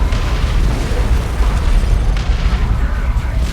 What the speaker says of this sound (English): That was all 3 orbital bombardments.